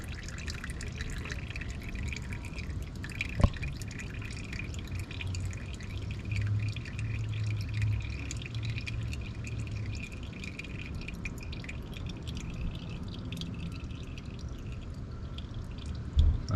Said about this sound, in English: At this point, I'll let it drain out.